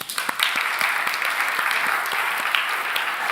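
Congregation clapping at a Sunday church service to welcome back friends after vacation, a steady, dense applause from a room full of people lasting throughout with sharp individual claps standing out near the front.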